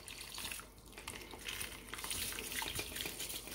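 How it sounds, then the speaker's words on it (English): Washed rice slides into a pot of very hot water for vegetable pulao, giving a soft, continuous watery splash and trickle, quiet and close, with no speech. "so now we'll add in our rice"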